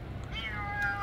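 A rain-soaked cat meows in a single drawn-out, rising and falling cry, close and clear over the steady hiss of a heavy downpour.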